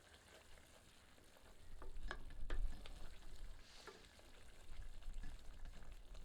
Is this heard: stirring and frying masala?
yes